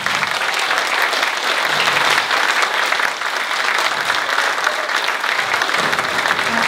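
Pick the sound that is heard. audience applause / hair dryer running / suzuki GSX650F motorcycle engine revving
audience applause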